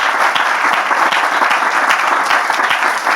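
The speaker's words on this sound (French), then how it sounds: "On peut applaudir les différentes interventions." Audience applause after talks at a church gathering, loud dense clapping from a large crowd, sustained and even throughout with no voices on top.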